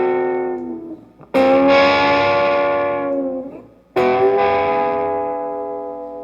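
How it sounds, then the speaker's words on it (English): Two loud distorted electric guitar chords, each struck hard and left ringing with a long, fuzzy sustain before fading. "It sounds weird with distortion."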